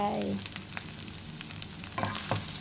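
Fried rice with shrimp paste, stink beans, shrimp and green onions sizzles in a pan, with stirring scrapes and soft clatter over a close, continuous frying hiss and no talking.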